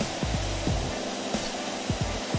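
Steady broadband hiss of a pressure washer spraying in PowerWash Simulator, continuous and fairly loud, with a few brief low thumps and sweeps breaking through the hiss.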